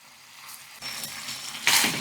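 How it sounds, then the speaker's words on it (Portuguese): Pork in a starchy sauce simmering and reducing in a pan, a soft bubbling sizzle that swells gradually and grows brighter toward the end, with no talking. "Vamos deixar cozinhando até esse caldo aqui diminuir."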